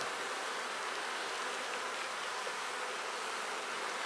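Honey bees in an open hive box during an inspection give a dense, continuous buzzing hum, close and even, with no talk.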